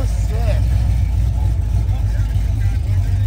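Custom engine-swapped car idling at an outdoor car show, a loud, steady low rumble with a choppy, lopey cam pulse that holds for the whole stretch, with crowd chatter faint in the background.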